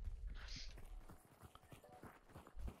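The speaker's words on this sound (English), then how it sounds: "Oh, shut up, you fucking horse!" Horse hooves clip-clop in the video game Hunt: Showdown, a quiet run of short, irregular hoof strikes with a voice and other game sounds mixed in.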